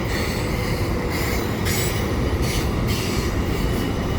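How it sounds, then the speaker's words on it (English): A CPKC double-stack freight train rolls past up close, a loud continuous rumble of railcars with wheel squeal and rail clatter throughout. "because there's a freight train"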